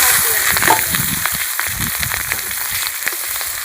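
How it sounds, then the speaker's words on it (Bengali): Steady oil sizzle with crackling pops as chopped capsicum fries in a pan with dried chillies, cinnamon, cloves and cardamom, loud and close, continuing without pause. "এটা ভাজা হোক"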